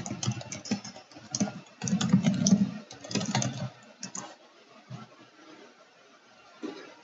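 Fingers type a file name on a computer keyboard in short, close bursts of key clicks, followed by a few sparse taps and then near silence.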